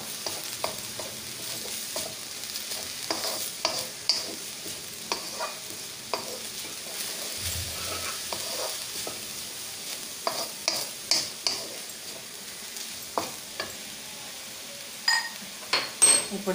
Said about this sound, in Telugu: ఇది కూడా మనం ఈ మిల్క్ అంతా రోస్ట్ అయిపోయే వరకు మనం రోస్ట్ చేసుకోవాలన్నమాట